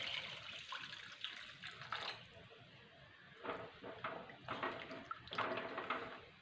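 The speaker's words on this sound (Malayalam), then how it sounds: "അത് ഇനി ഞാൻ വെള്ളം ഒഴിക്കുവാണേ ആവശ്യത്തിന് വെള്ളം ഒഴിക്കാം" Water splashes and pours into a pot of rasam in uneven bursts, close and fairly quiet, with brief pauses between pours.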